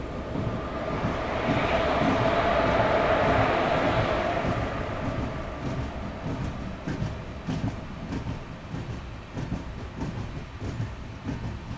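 Mandovi Express passenger train pulling into Karmali station in Goa, a steady rumbling roll of wheels and wagons that swells loud early on, then eases to a lower, rhythmic clatter as it slows.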